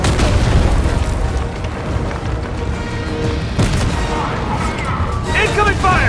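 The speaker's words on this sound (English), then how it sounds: "Incoming fire!" Heavy explosions and incoming fire in the video game Fortnite, with loud booms and crackling blasts rolling continuously, while voices speak over the chaos.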